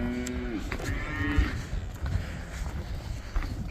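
On a farm, a three-month-old calf or its mother cow gives a clear moo at the start and a second, fainter one soon after, over rumbling barn noise and scuffs.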